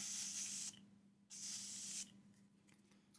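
Matifying setting spray hisses out in two short bursts, each under a second, close and soft, separated by a quiet pause.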